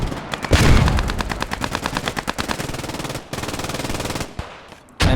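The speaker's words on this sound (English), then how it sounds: "An MG is set up in this barn, trying to do his best. Shooting at the building" Machine gun set up in a barn in Post Scriptum, a WWII shooter, firing rapid sustained bursts of sharp, evenly spaced shots with brief pauses between strings, loud and close.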